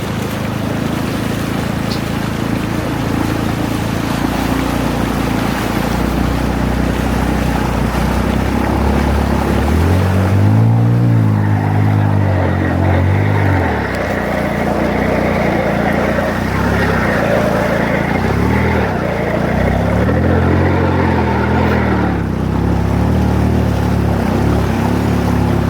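A vehicle engine churns steadily while wading slowly through deep floodwater in Cagayan de Oro, with continuous water wash and wind noise throughout and low motor strain swelling around the middle and later passages.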